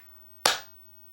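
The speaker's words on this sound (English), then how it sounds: "clapping for people" One sharp, loud hand clap, close by, snapping out of near silence with a short fading tail.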